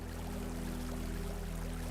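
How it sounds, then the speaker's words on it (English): Volumetric water draining into a player's base in the video game Enshrouded, a steady pouring, streaming rush that stays constant and fairly loud throughout with a low hum beneath. "One of the coolest features about this volumetric water is"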